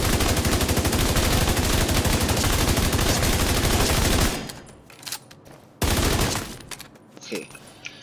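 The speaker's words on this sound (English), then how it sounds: "and start shooting" Rapid automatic gunfire at a shooting range in Tom Clancy's The Division 2, a dense, loud continuous burst that stops, then resumes briefly in a shorter volley.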